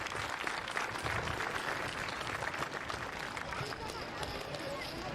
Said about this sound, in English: Can we get a big round of applause for all our supporting sponsors?